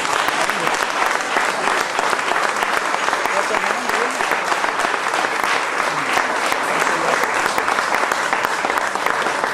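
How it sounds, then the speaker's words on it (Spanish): A church congregation applauds steadily and loudly, dense continuous clapping from many hands filling the room with no pauses. "¿Le podemos dar otro aplauso al Señor?"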